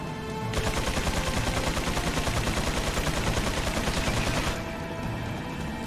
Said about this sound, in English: Mike will take out this chain gun nest for us